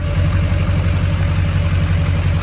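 A high-mileage Duramax diesel truck engine idles nearby with a steady, loud, low rumble and a rapid rhythmic clatter throughout, with no talking.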